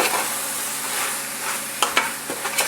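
Chopped coriander and tomato are mixed and fried in a pan for mutton biryani, with a bright continuous sizzle and a few sharp spoon scrapes and clinks near the end.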